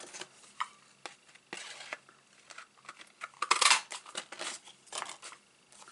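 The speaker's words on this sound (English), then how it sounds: "just take those scissors and nick those off" Scissors snip small nicks off silver card for an A2-size side panel card, making faint, close, scattered clicks and papery snips without talk.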